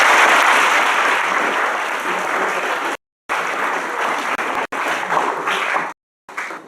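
An audience at an awards ceremony applauds with steady, dense clapping that fills the room, briefly cut by a few short silent gaps.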